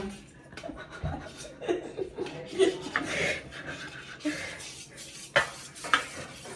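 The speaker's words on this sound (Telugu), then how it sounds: "ఇప్పుడు డ్రై ఇంగ్రీడియంట్స్ వెట్ ఇంగ్రీడియంట్స్లో వేసుకొని మిక్స్ చేసుకోవాలి" Dry ingredients being mixed into wet Christmas cake batter in a bowl, with irregular scraping, tapping and clinking of a utensil against the bowl, some sharp knocks, and faint background chatter and a chuckle.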